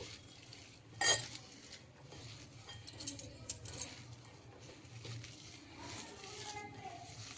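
Sliced onions with green chillies, coriander and curry leaves are mixed with salt in a bowl for pakodi, producing a sharp spoon clink followed by soft scattered clatters and rustling stirring, with a voice talking intermittently.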